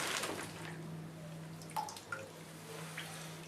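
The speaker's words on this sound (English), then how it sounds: "Submerge it in the water." A plaster of Paris bandage is dipped into a basin of water, giving faint splashes and a few soft drips and gurgles over a quiet background hum, close by and brief.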